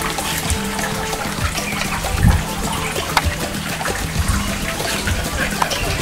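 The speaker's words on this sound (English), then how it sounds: "So we will mix the two and stir the mixture thoroughly." Salt and water are stirred together into a saline solution, giving a continuous sloshing, trickling liquid sound up close, with a few small clinks.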